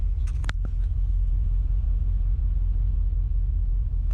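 A car engine with misfires idles steadily as a low, continuous rumble, with a few brief clicks near the start and no voices.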